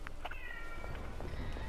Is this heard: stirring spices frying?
no